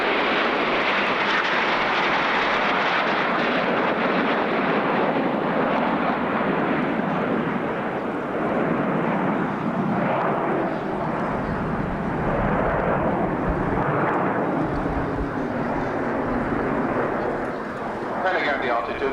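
A formation of aircraft passes at an RAF Scampton airshow in 1989, a continuous heavy engine roar that swells and shifts slightly as they go by, with a commentator talking over it.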